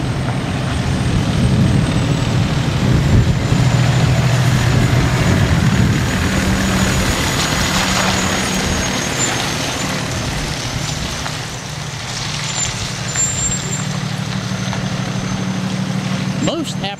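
An E-ONE e-MAX rescue pumper fire truck drives and maneuvers through tight turns, its steady engine rumble and road noise continuous throughout and loud up close.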